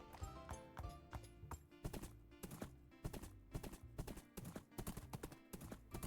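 Horse hoofbeats from Wynncraft, a Minecraft-based game, clop in a quick, steady galloping rhythm, with sharp, evenly spaced strikes that stay close and fairly quiet throughout.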